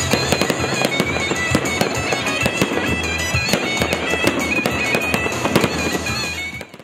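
Fireworks burst in rapid crackling volleys during a New Year celebration in the central town square of Stepanavan, Armenia, dense loud pops and booms continuing until a sudden stop near the end.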